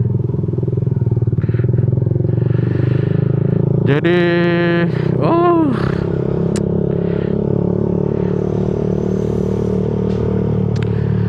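A New Jupiter MX motorcycle with a DBS racing exhaust idles with a loud, rough burble, then revs sharply twice in quick bursts before dropping back to a rumbling idle; a brief voice at the start.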